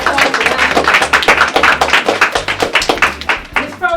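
An audience claps for a young woman from a children's letter-writing club, dense rhythmic hand claps filling the room, loud and close, carrying steadily from start to finish without pause.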